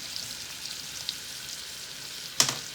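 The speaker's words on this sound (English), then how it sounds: "Alright, so I got my shrimp going right here." Shrimp frying in a pan give off a faint, steady sizzle, with one sharper crackle and pop near the end.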